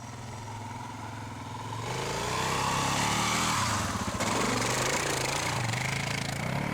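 Suzuki DR650 single-cylinder dirt bike labouring up a hill in second gear, a loud steady engine drone that swells after a couple of seconds and holds, with some clatter of the bike over rough ground.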